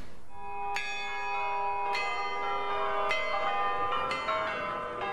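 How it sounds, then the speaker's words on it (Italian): Old church bells in the Bolognese hills ring out in slow, evenly spaced strokes, each bright clang overlapping the long ringing decay of the last, loud and clear with no voices. "il suono delle sue campane è ancora un dolce richiamo"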